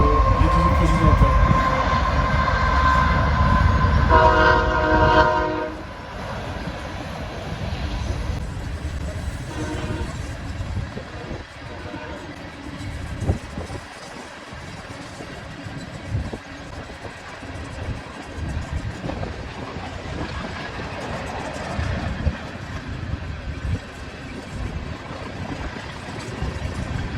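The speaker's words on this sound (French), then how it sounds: "il y a un train qui arrive" A train arrives and rolls past near a viewing spot by Mount Rushmore, a loud rumbling run with a brief horn-like tonal burst early on, then a long steady clatter of cars fading slightly over nearly half a minute.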